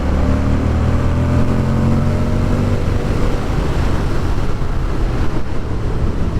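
A 2023 Moto Guzzi V100 Mandello motorcycle is ridden. Its engine drone falls away as rushing wind noise takes over, loud and continuous with no talking.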